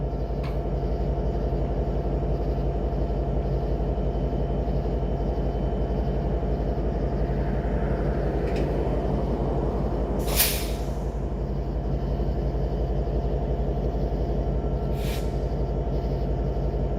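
A train passes through a railway junction in East Point, Georgia, giving a continuous low, heavy rumble with a droning tone, broken by a few short sharp hisses or clanks, with no talking.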